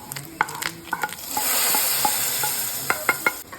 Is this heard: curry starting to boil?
yes